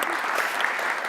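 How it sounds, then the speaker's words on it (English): A tech-talk audience claps steadily for a company CEO being introduced, a dense, even burst of applause at close range with no voices on top. "Applause for him."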